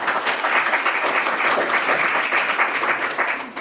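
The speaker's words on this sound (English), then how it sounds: "Give him a round of applause." Steady, dense applause from an audience at a local business breakfast meeting hosted at a county humane society, continuous and fairly loud for the whole stretch with no talking over it.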